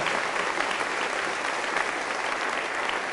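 Steady, dense applause from a church congregation, a continuous even wash of clapping with no talk over it for the whole stretch.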